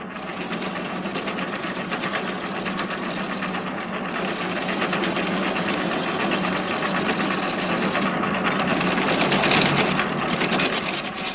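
Wood lathe turning a delicate spindle for a horse-drawn gig in a carriage-building workshop, a dense continuous whirring and chattering drone that stays loud and steady the whole time, with no voices.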